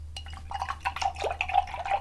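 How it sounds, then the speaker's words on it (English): A paintbrush used for acrylic paint is dipped and swished in a container of water, giving close, quick splashy drips and light glassy clinks over a low hum. "After each blending, after each time on the canvas, I dip my brush in the water"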